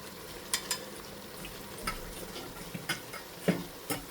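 Stuffed bitter gourd filling mixed with methi sev, soft scattered clicks and scrapes of a spoon against a pan over a faint sizzle, irregular and close, no voices.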